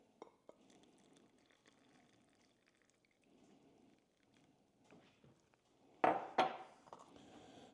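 Coffee with MCT oil poured into a cup, a faint trickle of liquid followed by a couple of louder clinks and splashes near the end, no talking.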